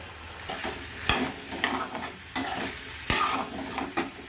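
Drumsticks and potatoes are stir-fried in a pan, giving a continuous close sizzle with rhythmic scraping strokes and a few sharp clinks of the spoon on metal, no speech.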